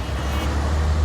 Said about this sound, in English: You can't escape a traffic jam.